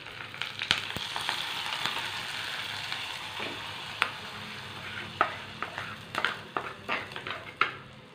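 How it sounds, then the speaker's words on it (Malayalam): Hot tempering for a green gram curry sizzles steadily as it is poured into the dish, with a continuous frying hiss and several sharp clinks and scrapes of a pan near the end. "അതിനുശേഷം നമ്മുടെ ചെറുപയർ കറിയിലേക്ക് ഒഴിച്ചു കൊടുക്കാം"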